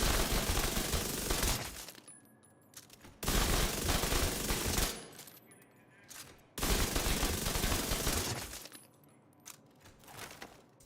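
Bursts of rapid automatic gunfire from a looter-shooter video game, three loud sustained volleys of a few seconds each separated by short pauses with faint tinkling effects.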